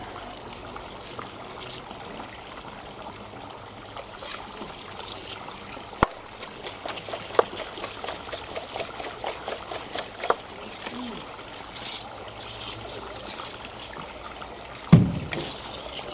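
Clear water rinses out a tub used for koi, heard as a soft, steady trickle and splash with scattered small knocks and a sharper bump near the end. The sound is fairly quiet and close.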